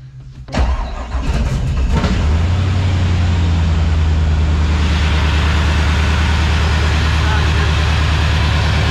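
A Corvette engine, freshly rebuilt, cranks and fires up in a loud burst, then settles into a steady, close, rumbling idle that runs on without pause.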